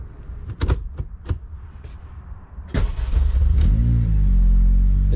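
K20-swapped Honda Civic wagon with no intake fitted: a few clunks and knocks, then the engine cranks and fires at once and settles into a loud, close, rising idle rumble.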